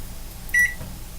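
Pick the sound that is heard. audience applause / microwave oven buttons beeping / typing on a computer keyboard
microwave oven buttons beeping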